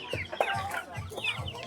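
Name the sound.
chicks and chickens at a poultry market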